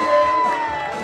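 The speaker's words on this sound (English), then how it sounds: "Keep cheering, folks! Keep cheering!" A crowd cheers and whoops at an eating contest during Metis Cultural Days, a steady wash of voices with a faint sustained tone running through it, lasting about a second.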